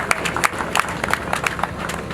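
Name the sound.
applause for the investor at a ground-breaking ceremony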